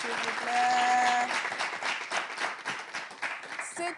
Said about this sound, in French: On applaudit les deux candidats, s'il vous plaît.